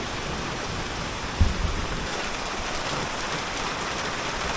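Steady rain falling on surfaces after a strong storm, with a low roll of thunder rumbling in partway through beneath the constant patter.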